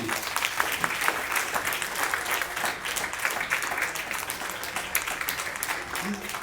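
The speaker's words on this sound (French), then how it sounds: "Mais applaudis le Seigneur." A church congregation applauding during a worship service, sustained dense clapping with scattered distinct hand strikes and a murmur of voices mixed underneath.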